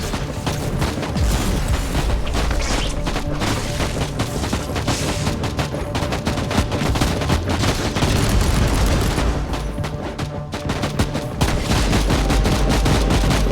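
A deployed turret in the Inquisitor Martyr video game fires nonstop, a dense, loud, rattling barrage of rapid shots and booms amid battle noise that keeps going with no let-up.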